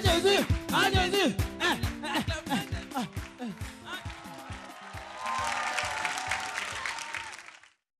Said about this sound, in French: On bat les mains pour Jésus.